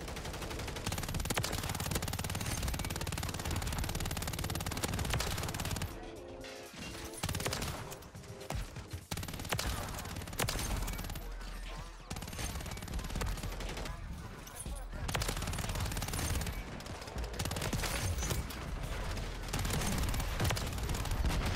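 Rapid bursts of submachine gun fire in a Call of Duty Modern Warfare 3 match, dense sustained automatic volleys broken by short pauses, loud and close, with a voice speaking over the shooting at times.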